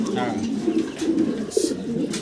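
Caged fancy pigeons cooing at a farm, a steady low murmuring coo repeating throughout, close and fairly loud with other birds and faint chatter around.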